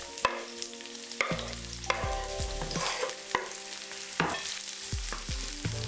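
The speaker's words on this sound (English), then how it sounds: "once your oil is warm, you can add in the onion and the garlic" Onion and garlic frying in warm olive oil with a little thyme in a pan over medium heat, a close steady sizzle broken by several sharp knocks and scrapes of a utensil stirring.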